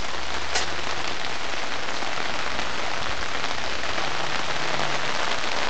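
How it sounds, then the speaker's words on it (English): Heavy rain pours down in Scotland, a dense, steady hiss of drops striking surfaces close by, constant and loud with no letup and no voices. "This is quite heavy even for us. It's been quite bad for the last 10 minutes or so"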